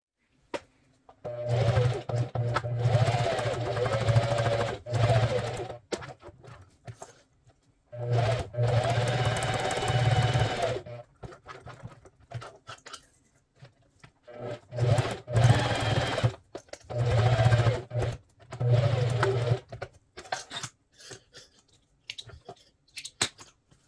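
A sewing machine runs in several bursts of a few seconds each while stitching a multipurpose wallet, with a steady mechanical whir and rhythmic needle chatter, close up, separated by short pauses and small handling clicks.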